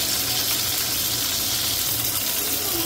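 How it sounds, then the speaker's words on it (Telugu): Pieces of ivy gourd fry in hot oil with a loud, dense, continuous sizzle that stays steady and close throughout, with no talking. "చూసారా ఎలా మంచిగా ఫ్రై అవుతున్నాయో."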